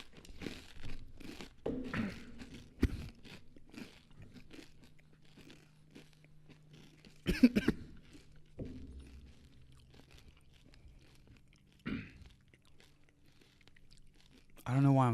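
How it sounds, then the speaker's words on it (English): Crunchy pepper chips being bitten and chewed, several sharp close crunches and crinkles scattered between quieter pauses, with faint chewing noises in the gaps. "I don't know why I'm slowing down when I chew."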